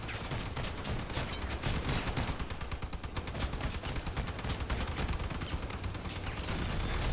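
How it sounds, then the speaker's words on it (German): Armed vehicles fire at tyres in the Crossout video game, producing a steady, dense stream of machine-gun fire, fast rattling shots blending into a continuous roar at moderate distance. "die schießen alle gern auf die Reifen"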